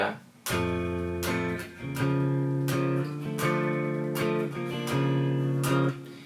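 Continuous acoustic guitar strumming, steady and full, with chords ringing without breaks and strums blending into an even wash of sound.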